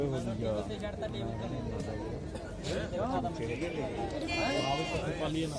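Beetal goats bleat repeatedly amid a busy crowd at the Tungwali goat market in Bathinda, Punjab, their wavering calls rising over steady chatter and background voices.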